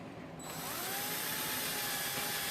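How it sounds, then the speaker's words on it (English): A power drill with a 5/64 bit boring holes in a 3D-printed part for a 1/6 scale Sherman tank turret, a steady whirring whine that starts abruptly and holds on, quiet and close. "And we're going to use a 5/64 drill bit."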